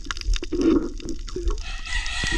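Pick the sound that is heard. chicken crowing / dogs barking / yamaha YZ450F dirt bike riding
chicken crowing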